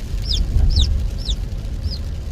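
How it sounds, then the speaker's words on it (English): A new Silkie chick gives four high, thin peeps spaced about half a second apart inside a car, clear above a constant low rumble of road and engine noise. "Frost is like crying like crazy, or chirping like crazy."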